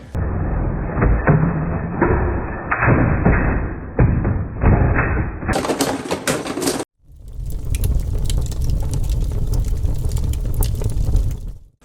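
Beyblade spinning tops are launched and clash in a tournament stadium, sending a dense run of rapid clicking, scraping and thudding impacts. A brief gap follows, then a second loud stretch of battling.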